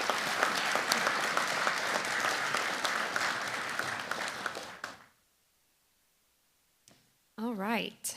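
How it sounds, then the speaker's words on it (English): Dense applause for award recipients at a NACON 2024 committee session fills the first five seconds, then cuts to near silence before a voice begins speaking at the end. "let's give another round of applause to all of today's award recipients"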